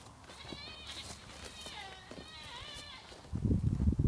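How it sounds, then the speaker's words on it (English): Goats bleating in a backyard near a wood pile, several wavering bleats at moderate distance, followed by a close rustling thump at the end. "Goats."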